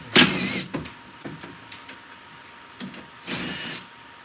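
A power drill backs screws out of a window during race-car prep, giving two loud whirring bursts at the start and near the end, with scattered clicks and knocks in between.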